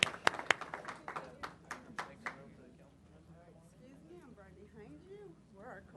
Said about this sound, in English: Let's give these young ladies a round of applause as they come up